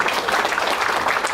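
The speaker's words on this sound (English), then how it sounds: "Can I just give the panel speakers a big round of applause?" Brief, loud burst of audience applause for panel speakers at a sports law conference, a dense uniform clatter of many hands lasting just over a second.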